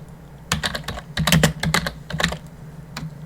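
Fingers typing C code on a Raspberry Pi computer keyboard, close and crisp, short clusters of key clicks separated by brief pauses.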